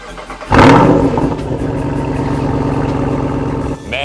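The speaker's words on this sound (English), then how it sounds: "at the push of a button, you can open up the exhaust baffles to give it that rumble" A Jeep Wrangler Rubicon 392 with quad exhaust and opening baffles fires up with a sudden loud crank and roar, then settles into a deep, steady, close rumble before briefly dropping off near the end.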